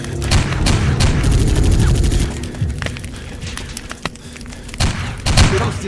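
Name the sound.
grenade explosion and gunfire in video game Bet On Soldier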